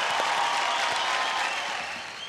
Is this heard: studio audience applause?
yes